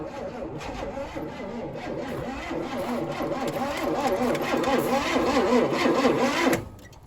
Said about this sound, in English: just gonna keep, I guess, cranking it. See if fuel gets to the cylinders.